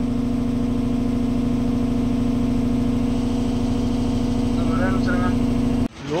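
A loaded lorry's diesel engine idling high and steady at close range, a constant loud drone with a faint higher whine near the end before it cuts off abruptly.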